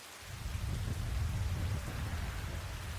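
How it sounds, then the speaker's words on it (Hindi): Steady, heavy rain pours with a deep rumbling roar underneath, like a storm building, in an anime (My Hero Academia), with no voices. "बारिश? अचानक विंड प्रेशर बढ़ गया और फिर एक तूफान बना।"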